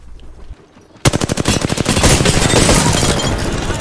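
Gunfire in the video game Apex Legends: after a quiet second, rapid automatic bursts start and continue loudly and continuously to the end.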